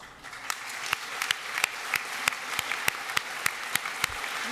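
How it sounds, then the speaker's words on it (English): Applause for staff standing at a university graduation ceremony, a steady wash of clapping from a large seated audience with sharp individual claps popping out regularly, continuous and moderately loud throughout. "please take a stand so we can give you a big round of applause"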